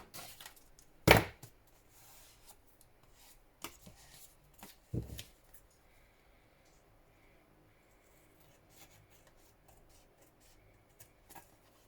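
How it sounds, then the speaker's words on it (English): Paper pockets for a journal cover being cut out, heard as a couple of sharp, close cutting crunches among quiet paper handling, with long near-silent stretches in between. "So now we need to cut our pockets out."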